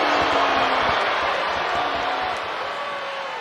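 A dense, steady roar of a large video game crowd cheering, loud and continuous, with a sustained electronic tone running underneath.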